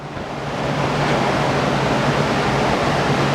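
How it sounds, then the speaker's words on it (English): A big shop fan runs for ventilation in a metal fabrication shop, producing a loud, steady broadband whoosh with a low hum that swells slightly as it spins up, with no talking. "fired up my big shop fan"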